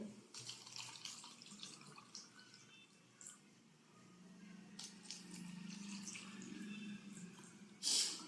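Reverse-osmosis water poured into two containers, a steady trickling pour that runs for several seconds at moderate level before a brief louder splash near the end.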